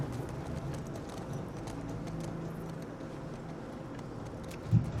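Horse hooves clip-clopping in the video game The Last of Us Part II, a steady walking rhythm of hoofbeats at moderate volume over a low ambient hum, with a louder knock near the end.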